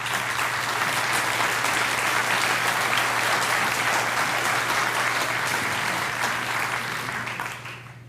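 Sustained applause from a large audience at an academic convocation, a dense, even roar of many hands clapping that fades slightly at the end.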